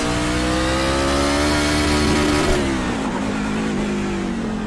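A NASCAR Truck Series truck in the iRacing sim brakes hard into a street-course corner, its engine note dropping in a steady descending drone with downshift blips, loud and continuous with no talking.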